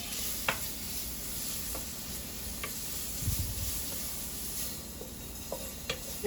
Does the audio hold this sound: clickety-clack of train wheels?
no